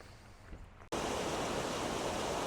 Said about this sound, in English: This here is the outflow right behind me for Graysville Falls